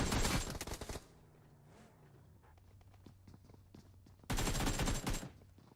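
Gunfire in a competitive video game match, with two dense bursts of rapid shots at the start and near the end and quieter game sounds between them, no speech over it.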